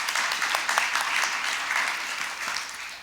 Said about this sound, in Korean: 저분들 한번 격려의 박수 한번 드립시다.